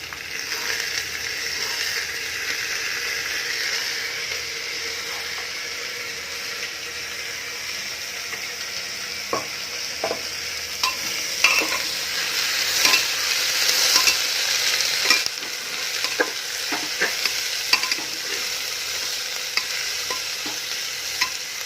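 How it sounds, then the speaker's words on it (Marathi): Vegetables for khichdi are stir-fried in a pan as beans go in, with steady sizzling and frying, scraping stirs and occasional clinks of a spoon against the pan throughout, close and fairly loud. "थोडा वेळ परतून घेऊया आणि मग बीन्स टाकूया"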